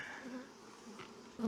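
Honeybees buzz in a newly installed hive, a soft, continuous hum with a few wavering tones and a louder burst near the end, heard close up with no talk.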